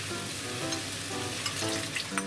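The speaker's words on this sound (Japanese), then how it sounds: "ここに先ほどのタレですね、合わせたやつ流し入れます。" Premixed sauce of sake, mirin and sugar goes into a pan of softened frying onions for Japanese ginger grilled pork, giving a lively crackling sizzle with bursts of bubbling and stirring.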